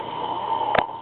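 A person snores in one drawn-out, rasping breath that builds and ends in a short sharp snort, close by and heard on its own.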